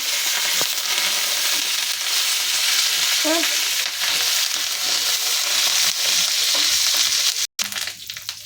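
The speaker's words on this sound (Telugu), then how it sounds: "ఎండుమిరపకాయలు వేస్తున్నాం" Urad dal, curry leaves and dried red chillies frying in hot oil for a tempering, a steady close sizzle and crackle running throughout with a few sharper pops, no voices.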